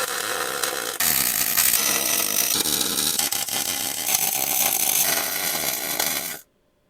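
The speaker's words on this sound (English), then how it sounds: "Now I'm gonna weld this before I change my mind." Steady, loud crackling and hissing from metal being welded, running continuously for about six seconds at close range with a brief break near the start, then cutting off abruptly into silence.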